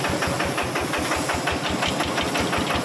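A homemade Thai tractor engine runs at a steady idle, thumping in a fast, even rhythm with a hissing mechanical wash, loud and close.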